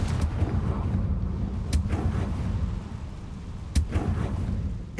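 Blasting spell impacts from Hogwarts Legacy crack out in sharp bursts over a rumbling, busy game soundscape, two distinct explosive hits standing out.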